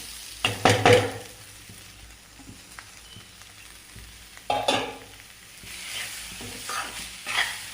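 Mutton masala with turmeric and meal maker sautés in a pan: two sharp bursts of spatula scraping and stirring over a soft, continuous sizzle, with gentler stirs toward the end.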